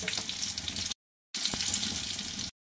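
Fish pieces frying in a pan, a loud crackling sizzle that cuts out for a moment and then resumes just as strong.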